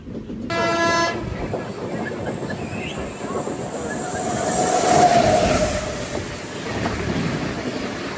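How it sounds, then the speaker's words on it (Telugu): Kovai Superfast Express double-decker train passing by, a continuous loud rumble of rolling wagons with clattering wheels that swells toward the middle, and a faint horn-like tone near the start, no voices. "Kovai super fast express double decker Bandi."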